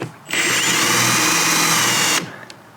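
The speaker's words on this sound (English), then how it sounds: "I just got out my Dremel" A Dremel rotary tool cleaning up a part of a Mercedes-Benz C250 interior door handle, a loud, steady high-pitched whine that starts abruptly and runs for about two seconds before cutting off.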